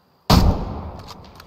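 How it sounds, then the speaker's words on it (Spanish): A single loud rifle shot fired at an elk while hunting in the video game Way of the Hunter: a sharp, sudden crack with a booming body that trails off into a long rolling echo. "vamos a asegurarlo con un bonito disparo, ojalá pulmones o preferiblemente corazón."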